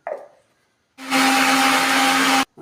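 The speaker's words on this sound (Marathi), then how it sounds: "आपण मिक्सरला वाटून घेऊया." A kitchen mixer grinder whirs loudly while grinding peeled garlic cloves with cumin seeds for mirchi bhaji batter. The motor runs steady and close for about a second and a half, then cuts off abruptly.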